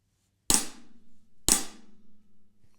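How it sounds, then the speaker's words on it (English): Two sharp right-hand flams on a snare drum about a second apart, each a quick doubled crack with a short ringing tail, played alone in a quiet room. "A right hand flam sounds like this."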